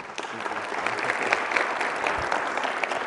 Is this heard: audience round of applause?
yes